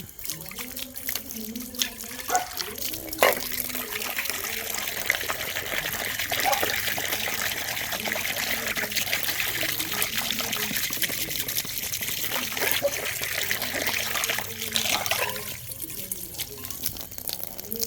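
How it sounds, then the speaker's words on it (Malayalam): Tap water runs and splashes while a rice plate is washed, a continuous trickling gush with drips and clinks, and a voice speaking briefly over it at the start. "ചോറും പാത്രം കഴുകി"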